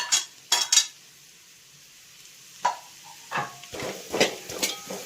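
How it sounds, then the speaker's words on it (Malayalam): A utensil scrapes and clinks against a pan while chopped onion and green chillies are stirred in for a chicken stew, in a few separate bursts with quiet gaps between them and a faint sizzle underneath. "അതിലേക്ക് നമുക്ക് സവോള ചെറുതായിട്ട് അരിഞ്ഞ് വെച്ചതും പച്ചമുളകും കൂടെ കൂടിയിട്ട് ഇളക്കാം."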